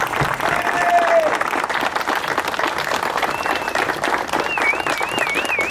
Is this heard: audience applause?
yes